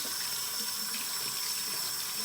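Water runs steadily from a tap in a constant, close hiss without pauses.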